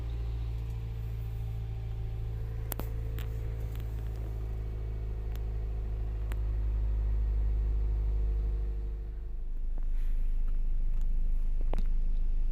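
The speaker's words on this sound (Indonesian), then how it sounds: "kita lakukan warming up dulu atau kita panasin dulu mobilnya" Car engine idling while warming up before a carbon-cleaning job, a low steady rumble close by with a few sharp clicks and knocks, swelling slightly louder toward the end.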